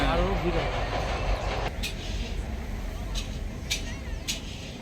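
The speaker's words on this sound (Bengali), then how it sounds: "তারপরে একটা ট্রেন চলে যাচ্ছে।" A train rolls past near a flower garden in Khirai, a steady rumbling rail noise with faint clicking throughout, with some bird-like chirps above it.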